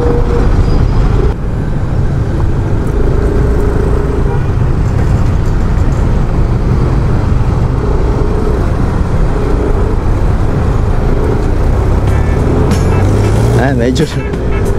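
Heavy road traffic on MacArthur Highway near the Balibago rotonda, with a steady close rumble of cars, buses and engines idling and moving, continuous and loud, plus a brief horn-like blare near the end.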